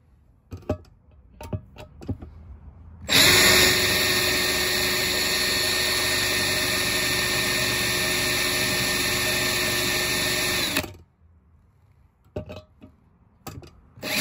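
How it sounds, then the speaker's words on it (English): Power drill boring a pilot hole through a front splitter bracket on a Lexus IS F, a loud steady high whine lasting about eight seconds, framed by scattered handling clicks and knocks. "drill bit is walking"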